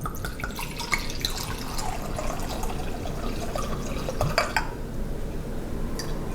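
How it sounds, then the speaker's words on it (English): Vegetable oil and sherry pour into cake batter in a bowl, giving a faint, steady liquid trickle with a few light drips and clinks, close and alone against a quiet kitchen background. "I'm going to add some vegetable oil and the sherry."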